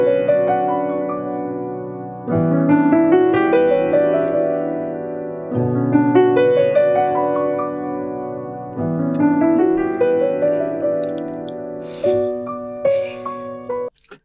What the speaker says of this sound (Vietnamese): đây không phải là một cái track cả bài nhạc mà chỉ là track piano bình thường thôi